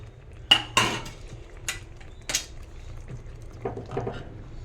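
A spoon clanks and scrapes against a pan while stirring paneer into gravy, several sharp metallic knocks followed by softer wet scraping as the mixture is folded together, close and with no speech.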